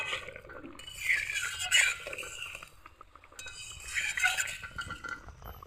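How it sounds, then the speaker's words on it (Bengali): A utensil stirs mustard rohu fish curry in a pan, making soft scraping and clinking sounds in irregular bursts, with quiet gaps between strokes. "স্বাদ মতো নুন, ভালোভাবে নেড়ে চেড়ে দেবো।"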